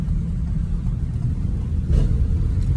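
Low, steady engine and road rumble from inside a U-Haul truck on the move, a smooth continuous drone with a slight swell near the end.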